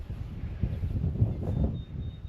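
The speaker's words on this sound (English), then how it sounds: "it's so windy today" Low, rumbling wind buffets the microphone steadily throughout, with no voices.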